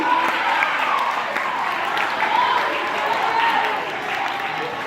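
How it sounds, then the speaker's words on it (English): Congregation clapping hands during a student-led church sermon, a steady moderate wash of applause filling the room for several seconds. "Clap your hands for that"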